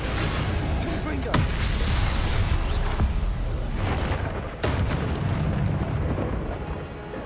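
Fiery explosions from the Confringo spell in Hogwarts Legacy, a dense roaring blast with a few sharp bursts, loud and continuous under the game's combat noise.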